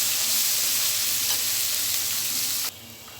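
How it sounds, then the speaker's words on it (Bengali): Lentil dumplings (bori) frying with spices as they are stirred, a loud continuous close sizzle with soft stirring movement, dropping suddenly quieter near the end. "বড়িগুলোকে ভালো করে মশলার সাথে নেড়ে চেড়ে এবার ডাঁটাগুলোকে দিয়ে দিব"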